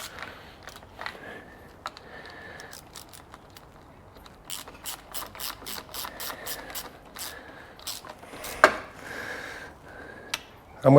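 Bolts on a Bennche 800 motor mount are semi-tightened with a ratchet, a fast run of sharp clicks in short bursts, close by and fairly quiet, with occasional knocks and clanks of metal between the bursts.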